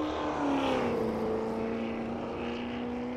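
Sustained engine drone from a vintage supercharged Bentley 4.5 litre 'blower' racing car, a steady loud tone with a slowly shifting pitch as it passes, heard on its own.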